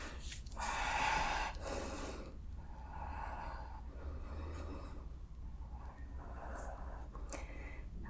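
Deep, slow breaths drawn in and let out while holding a yoga hip stretch, a few airy inhales and exhales close by with a soft background hum.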